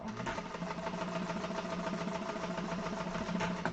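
A sewing machine runs continuously at a steady, rapid pace, sewing a seam on a handbag in top stitch length. The close mechanical whir and rattle stays even throughout, with no talking.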